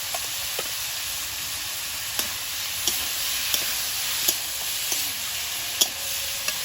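Shrimp frying in a pan with turmeric, salt and cumin powder, a steady close sizzle with a few sharp stirring clicks spread through, no voices.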